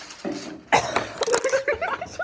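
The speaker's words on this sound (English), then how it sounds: "When I coughed a piece of lettuce" A single sharp cough bursts out, followed by a few short, breathy sounds close to the microphone.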